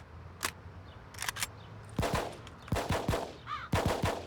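Rifle and automatic gunfire in the Full Spectrum Warrior video game crack out in sharp scattered bursts and single shots, some loud and close, others fainter, with a brief electronic chirp among them.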